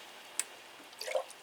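A houseplant being watered gives a few faint, sparse drips and small splashes, one quick droplet followed by a short cluster of wet trickling sounds in a quiet room.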